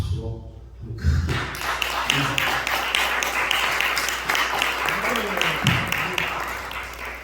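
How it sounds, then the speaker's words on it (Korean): A church congregation at an ordination service bursts into loud applause after a short pause, sustained clapping with occasional thuds continuing to the end. "박수로 한번 크게"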